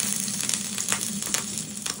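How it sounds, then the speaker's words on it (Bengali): Ginger tempering sizzling in hot ghee for chana masala, a steady close frying hiss with small crackles and pops throughout, no talking. "এবার ঘি দিয়ে আদার ফোড়নটা দেবো"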